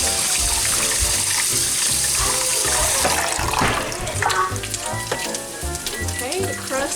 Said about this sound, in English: I'm going to go ahead and drain and rinse the black beans.